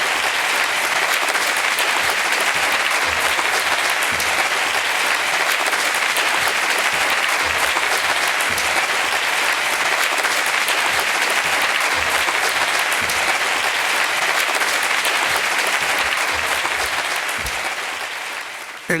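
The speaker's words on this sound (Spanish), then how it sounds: "Recibamos con un aplauso a Antonio García Trevijano." A lecture audience welcoming a speaker to the podium with sustained applause, a steady, dense wash of many hands clapping in a hall that holds evenly for nearly twenty seconds before tapering off.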